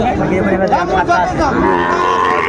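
Bull calves mooing loudly and close at a cattle market, several overlapping low bellows over a murmur of crowd noise.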